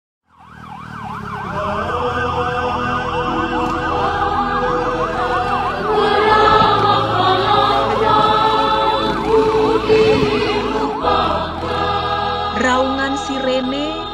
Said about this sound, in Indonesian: Raungan sirene mengejar waktu